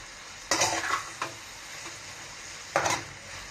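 Fried tofu is stirred through oyster sauce and tomatoes in a pan, with a soft background sizzle broken by a few scraping, clattering strokes of the utensil against the pan.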